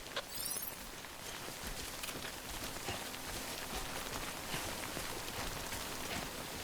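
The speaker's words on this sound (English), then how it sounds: "Good thing it was raining." Steady rain patters softly and evenly on surfaces in the video game Death Stranding, a faint continuous hiss with scattered droplet ticks and no voices.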